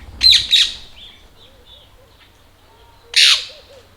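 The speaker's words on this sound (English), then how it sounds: "See that bird? That's a parrot." A parrot in a backyard gives two quick raspy squawks, falls quiet and then squawks sharply once more, loud and fairly close, over faint background hum and soft bird chirps.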